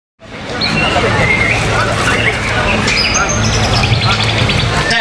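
Many songbirds chirp and trill at once at a songbird singing competition held on a Sunday morning at a military base in Palembang, their calls dense and continuous beneath a busy crowd's murmur.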